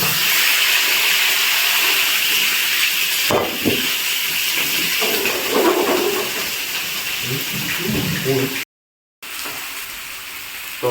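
Food frying in a pan for a home-cooked dish with garlic paste, a loud steady close sizzle and hiss that runs throughout, with a brief cut near the end.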